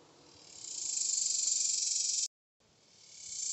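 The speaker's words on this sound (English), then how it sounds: "Fanning like crazy." Honey bees fanning at the hive entrance in intense summer heat, a dense steady high-pitched buzzing drone that swells in loudness, cuts out briefly, then resumes, with no talk over it.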